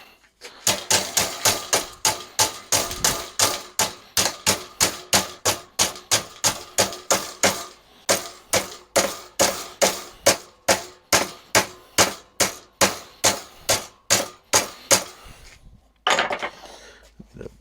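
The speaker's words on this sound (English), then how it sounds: "Different hammer." A hammer pounds metal mesh for a fire pit on a mesh bender, striking in a fast, steady run of loud, ringing clangs, close by. The blows pause briefly twice, then stop near the end.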